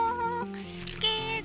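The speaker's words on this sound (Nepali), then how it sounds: "बिरालो यता" A cat gives a few drawn-out, tonal meows up close in a rural village setting, voiced in short successive cries over roughly a second and a half.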